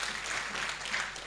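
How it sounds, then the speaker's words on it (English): Applause fills a report launch event as a dense, even wash of clapping, fairly faint and brief with no distinct individual claps. "Please give them another round of applause."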